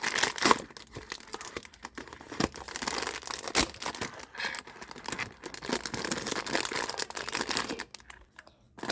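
A newly bought Hello Kitty Sanrio item is unwrapped and opened, producing close, irregular crinkling and tearing of plastic wrapper in bursts over several seconds, with no talk.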